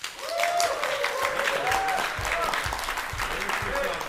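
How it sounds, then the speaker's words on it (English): Steady applause from a crowd at the Holmgång 2024 finals fills the scene, continuous clapping with a brief background tone drifting through. "Henrik Hintze getting applauded."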